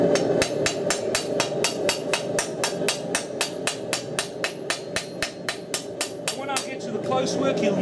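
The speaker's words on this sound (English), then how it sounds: "Okay, now just dropping down to a smaller hammer." A small forging hammer strikes a knife blade on an anvil in a rapid, steady series of sharp, ringing metallic blows, around three per second, close and loud, ending with a few lighter taps.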